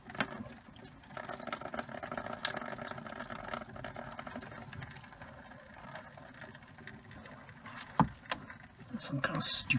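Water trickles and drains out of the flooded, clogged ECU compartment of a BMW E60, a steady wet wash with occasional small clicks and clatter, fairly quiet throughout.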